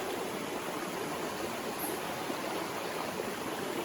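Steady, broadband rush of the Gale River flowing past a gravel bank and small island in the White Mountains, close and continuous with no pauses, filling the whole clip with no voices.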